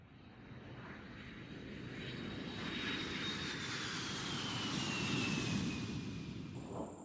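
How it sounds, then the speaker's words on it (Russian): A passenger airplane takes off from a nearby airport in Khimki, Moscow region, its engine roar building into a steady, broad rumble that swells toward the middle and stays loud throughout, with no talk over it. "Отсюда лучше фотографировать самолеты, написал нам застройщик, потому что вот аэропорт, и вот они начинают вот так красиво взлетать."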